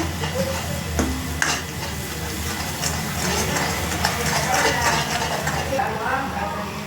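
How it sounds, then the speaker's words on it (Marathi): Turmeric and coriander powder being stirred into hot oil in a pan while making a paneer curry, giving a steady close sizzle with scraping spoon strokes and a few light knocks, no talk. "आता हे सगळं मिक्स करून घेते मस्त."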